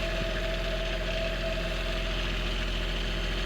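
A 2021 inboard diesel on a 35 ft sailing yacht idles under way, a steady, even drone with a faint mechanical hum that holds unbroken and moderately loud for the whole stretch, with no voices.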